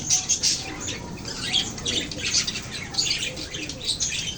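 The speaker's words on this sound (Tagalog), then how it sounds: "Ito yung mga alaga kong parakeet, parakeets, at kakatiel." Pet parakeets and cockatiels squawk and chirp in a dense, continuous chorus. The bright, overlapping calls come close and fairly loud with no pauses.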